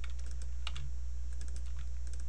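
Mouse double-clicks and a delete key press on a computer while editing background artwork in Flash, heard as a few sharp, close clicks and taps over a steady low hum, with no talking.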